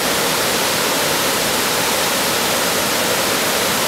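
The Watertown waterfalls rush in a dense, steady roar of broadband noise, loud and unbroken throughout.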